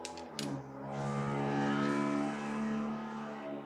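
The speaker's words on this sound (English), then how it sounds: "Confirmation if you didn't hear that car driving by." A car drives by close, its engine hum swelling to a broad whooshing peak mid-pass and then easing off as it goes, heard alone with no talk.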